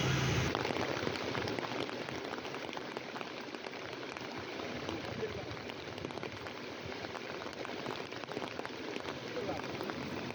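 Heavy continuous monsoon rain in North Bengal falls as a dense, even hiss that stays unbroken and fairly quiet throughout.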